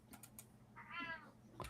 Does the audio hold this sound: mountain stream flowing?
no